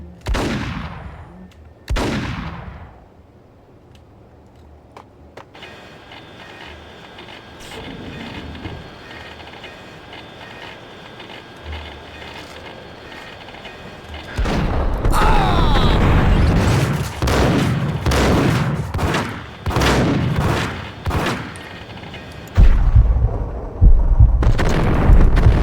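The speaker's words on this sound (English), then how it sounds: "And that's how most of the gunfights go down in Max Payne." Gunfight from the video game Max Payne: a few sharp shots early on, then a dense stretch of rapid gunfire and heavy explosive booms, loud and close, continuing to the end.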